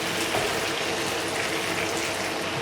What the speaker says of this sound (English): we're going to add in more water, more hot water